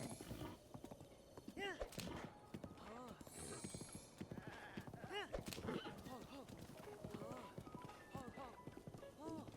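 Rapid galloping hoofbeats with occasional horse whinnies in The Legend of Zelda: Breath of the Wild, over a busy game soundtrack with some speech.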